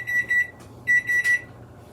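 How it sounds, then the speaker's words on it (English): Kitchen timer alarm beeping during sourdough bread making, two bursts of rapid, sharp electronic beeps separated by a short pause, clear and alone. "There's our timer."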